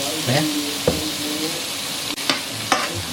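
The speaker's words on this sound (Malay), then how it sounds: "kita kacau-kacau je, bagi baru masak dulu" A spoon scrapes and knocks through sambal with galangal cooking in a pan, giving a few distinct stirring strokes over a steady sizzle and hiss of frying.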